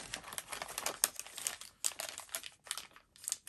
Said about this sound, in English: I'm just going to make a little snip with my good stork scissors here